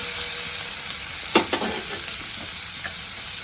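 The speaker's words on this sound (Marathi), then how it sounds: "तर मी ह्यात टमाटर टाकून घेते" Chopped tomatoes dropped into a pan of frying onions, a steady sizzle with a brief sharp hiss and clatter as they land, then settling back to even frying, no voices.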